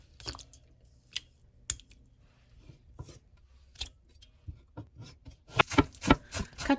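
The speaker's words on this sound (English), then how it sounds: "Cut the green onions." A knife chops green onions on a cutting board for a Japanese tonjiru pork stew garnish, sounding as sparse, sharp taps that grow into a quicker run of close, crisp chops near the end.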